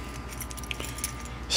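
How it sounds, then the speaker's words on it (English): A bunch of car keys for a 1986 Buick Estate Limited wagon jangles softly and close by, with a few light metallic clinks and a louder rustle at the end. "These are all the keys we've got."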